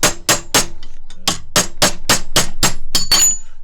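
A hammer strikes a chisel against the jaw of a Wilton Bullet vise, about a dozen sharp metallic blows in a quick, even rhythm, each ringing briefly, loud and close.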